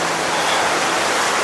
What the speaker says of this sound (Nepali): नदी बनाएछ, स्ट्रिम खोला,